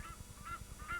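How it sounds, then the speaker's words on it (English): Egyptian geese in a Kenyan lake park give repeated nasal honks in a steady rhythm, three or four calls over about a second, moderately close over a low background murmur. "Egyptian geese are common here."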